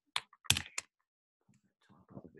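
Brief clacking keystrokes on a computer keyboard, a few close taps in quick bursts followed by softer typing, with short gaps between.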